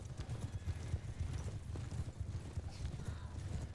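Horses trot in the video game Bannerlord during a castle siege, a soft continuous clatter of hooves heard at a distance and fairly faint.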